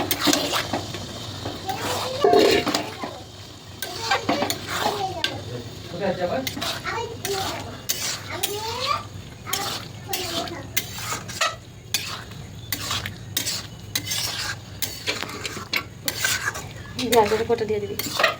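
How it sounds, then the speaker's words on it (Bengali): Spiced dried peas are stir-fried in a pan for ghugni, with repeated scraping and clinking of a spatula against the metal and a light sizzle, while an adult and someone talk nearby. "এবার এই মটর কড়াই দিয়ে ভালো করে কষে নেবে"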